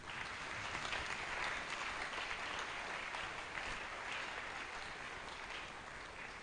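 Steady applause from a church congregation during a Sunday worship service, continuous and evenly dense, heard faint and distant with no voices over it.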